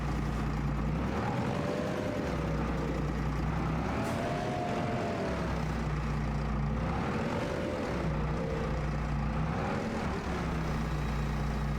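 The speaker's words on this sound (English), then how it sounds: "Can we lift that with the small tractor?" A small tractor in Farming Simulator 25 hums steadily as it lifts heavy grass bales, its engine drone constant with gentle pitch rises and falls as the load is raised.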